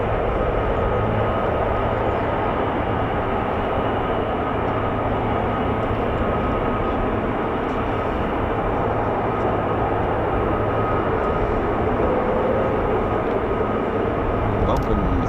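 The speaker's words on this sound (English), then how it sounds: "they refuel the aircraft with the engine still running" An F-15 or F-35 fighter jet engine idles during hot pit refueling at RAF Lakenheath with the 48th Fighter Wing, a loud, continuous roaring drone that stays level from start to finish.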